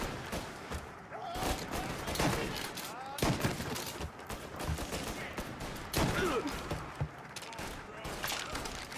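Rapid gunfire from the video game Mafia: Definitive Edition, with dense volleys of loud cracks and bursts coming in clusters across the whole stretch, close and punchy, mixed with game effects.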